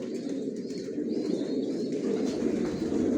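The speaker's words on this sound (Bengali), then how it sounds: "বিদেশি রেজাল্ট করা কবুতরের বাচ্চাগুলো আমার লফট থেকে বিক্রি হয়" Racing pigeons coo steadily inside a loft, a soft, continuous throaty murmur from several birds close by with no talk.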